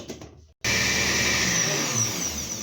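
A kitchen blender grinds salsa with added water for picaditas, starting after a brief pause with a loud, steady whirring roar that holds unbroken and close for the rest of the moment.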